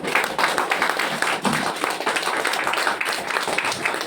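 A group applauds the leaders at a gathering in Darjeeling, a dense, sustained clapping that stays loud and even throughout, close to the listener.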